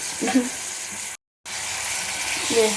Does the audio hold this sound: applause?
no